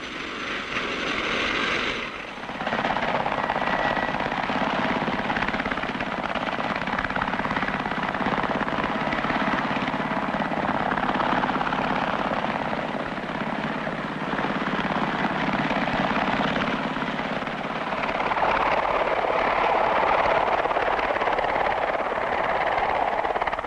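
A Bristol Type 192 Belvedere helicopter in flight gives a loud, steady rotor and engine roar that holds for the whole stretch, with one short dip near the start.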